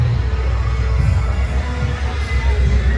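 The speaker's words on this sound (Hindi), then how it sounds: "बहुत ही ज़्यादा भीड़ है" A large, dense crowd at the Pratapgarh fair, a steady close murmur of many voices and movement with a low rumbling hum underneath, continuous throughout without any single clear voice.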